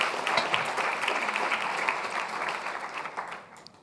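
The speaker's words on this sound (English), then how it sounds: "can we have a big round of applause for Francesca?" Sustained applause from a conference audience at a climate and health plenary, a dense, steady wash of many hands clapping that tapers off slightly toward the end.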